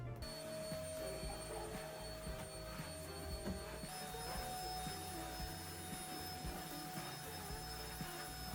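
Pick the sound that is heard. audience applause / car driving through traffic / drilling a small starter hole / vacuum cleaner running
vacuum cleaner running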